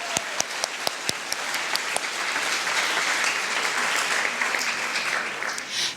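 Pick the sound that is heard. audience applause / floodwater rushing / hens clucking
audience applause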